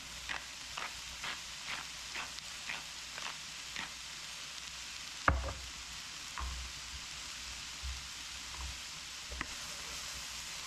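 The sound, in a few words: stirring food in a pan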